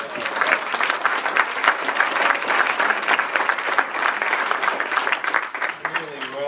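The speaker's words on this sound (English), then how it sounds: "How about a round of applause for our" Applause from the audience at a Democratic Honorary Society dinner, steady, close clapping from a full room for several seconds before fading out as a voice returns.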